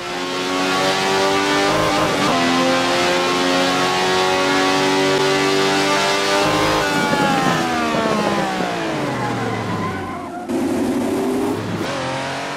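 A car in a racing video game brakes hard from speed with the front brake bias at 46%. The loud engine note drops steadily through downshifts, and a faint tyre scrub runs underneath.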